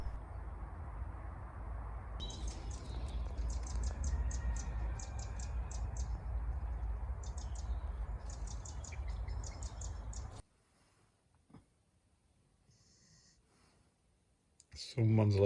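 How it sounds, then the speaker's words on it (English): Birds sing outdoors with rapid, repeated high chirping phrases over a low rumbling background, then clearer and quieter toward the end. "There's been a lot of birdsong recently."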